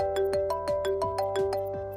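Incoming call ringtone inside a Lexus car, a steady run of bright repeating chime notes in a quick even rhythm, clear and close with no talking over it.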